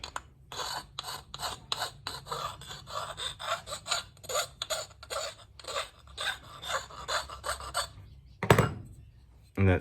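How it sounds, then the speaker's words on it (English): A fine hand file deburrs the edges of Holden Grey Motor engine pistons, rapid rhythmic rasping strokes repeating close up, with a short pause and a sharper scrape near the end. "So I've got a really fine little nice file."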